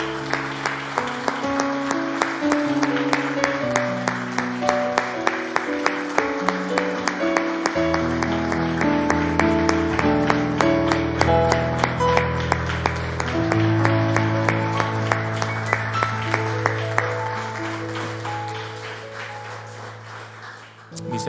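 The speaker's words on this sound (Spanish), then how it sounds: "Le damos un aplauso al Señor," Congregation applause in a church, steady dense clapping sustained for about twenty seconds over sustained musical tones, fairly loud and close.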